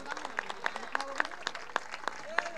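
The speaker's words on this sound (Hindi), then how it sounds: "ओहो व्हाट अ कैच, जोरदार ताली।" Spectators at a local Aamdar Chashak 2021 cricket match clap after a great catch, a rhythmic run of sharp claps about three or four per second, mixed with raised voices and shouts.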